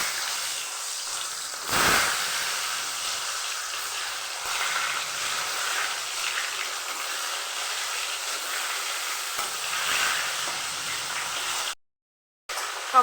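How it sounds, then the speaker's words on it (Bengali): Potato pieces coated in turmeric, salt and food colouring, for biryani, fry in hot oil with a steady, dense hiss that runs throughout, marked by a soft thump early on and a brief drop to near-silence just before the end. "আমি আলুগুলো এখন ভেজে নিব"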